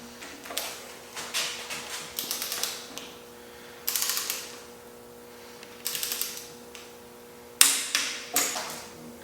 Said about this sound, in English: then we will torque these down to 100 foot-pounds in a 3-step process